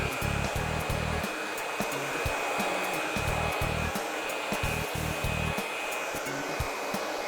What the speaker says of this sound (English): blow dryer to follow the brush like so